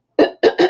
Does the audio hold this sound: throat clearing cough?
yes